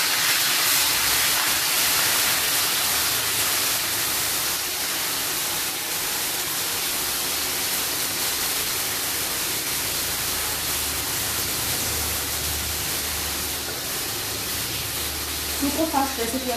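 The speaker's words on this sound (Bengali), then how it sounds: "এবার আমরা এর মধ্যে আগে চিকেনটাকে হালকা করে একটু ফ্রাই করে নেব।" Chicken pieces lightly frying in hot oil give a steady, broadband hiss and sizzle that runs unbroken throughout, with a few brief clatters near the end.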